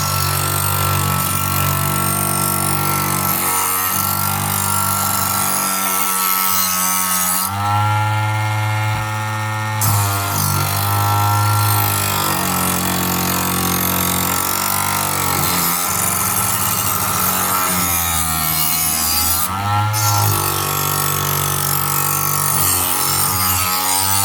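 A Narcissus Professional two-stage electric knife sharpener whirs steadily as a blade is drawn through its slots, a continuous motor hum with grinding passes rising and falling throughout, loud and close with no talk.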